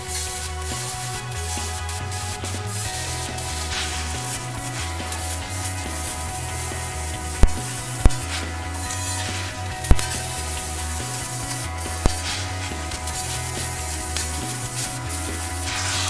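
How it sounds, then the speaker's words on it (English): Cutting torch slicing through a steel burn barrel, a steady loud roaring hiss with low rumbling pulses throughout, broken by a few sharp pops and crackles, no talking. "So I'm going to cut these out with my cutting torch along the lines we drew earlier."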